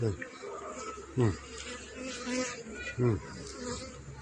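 A close swarm of bees buzzes steadily, with louder droning swells rising every second or two.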